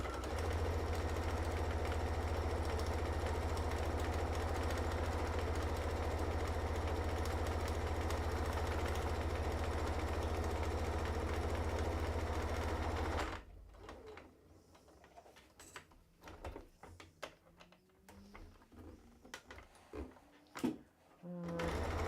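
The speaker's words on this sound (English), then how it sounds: "we're just going to do 2 top stitches on my straps" Sewing machine top stitching fabric straps for a small cross-body bag, a steady low motor hum for about thirteen seconds, then stopping and giving way to quieter handling clicks and rustles.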